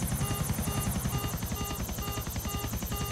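Helicopter in Grand Theft Auto 4 coming down onto a helipad, its rotor thumping in a fast steady pulse with a loud constant engine whine throughout, close and alone with no talk.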